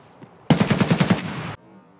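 A rapid automatic burst of about eight rounds rips out in the video game Escape from Tarkov, loud and close, lasting around a second before cutting to quiet.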